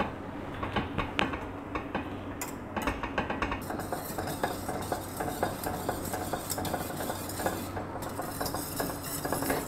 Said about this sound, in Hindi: साथ में हैंड मिक्सर से इसको मिक्स करते जाएंगे